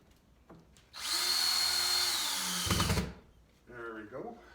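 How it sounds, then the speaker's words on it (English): A power drill drives screws into garage peg board, whirring loudly and steadily for about two seconds before slowing and stopping, with faint talk before and after. "And some more screws going in here."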